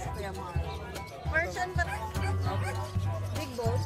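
A dog barks and yips several times at a market stall, the barks mixed with people talking nearby.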